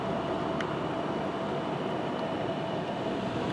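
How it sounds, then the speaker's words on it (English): Steam locomotive GCR 4960 coupling onto passenger cars at a station, a steady broadband rumble of the train held throughout with a faint hum, no voices. "from here you can actually see the steam train coupling on to the passenger cars"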